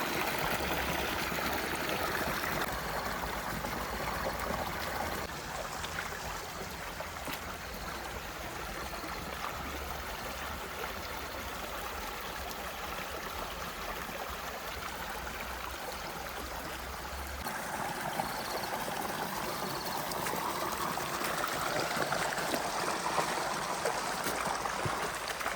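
A tap used for farm irrigation pours water in a constant, full rushing splash that stays loud and unbroken throughout, with no voices.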